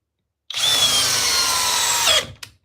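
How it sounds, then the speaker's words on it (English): A Kobalt cordless drill in drill mode at speed 2, on a 2 amp hour battery, drives a 3/8 by 5-inch structural screw, giving one loud, steady whine for about a second and a half before it stops abruptly. "we'll go with the 3/8 by 5-inch structural screw here. Cobalt, speed 2, drill mode, 2 amp hour battery"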